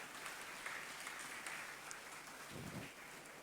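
A church congregation claps together in a steady, even wash of applause during a sermon, heard from a distance and fairly faint throughout.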